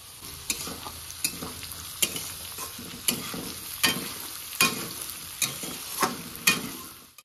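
Peas and capsicum are stir-fried for fried rice in a hot pan, with steady sizzling broken by regular scraping spatula strokes, close and moderately loud with no talking.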